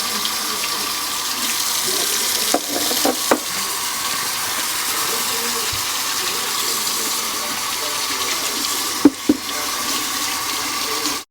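Warm tap water gushes steadily into a sink for cleaning fish tank decor, a constant hiss of flow with a few brief knocks and clatters as items are handled.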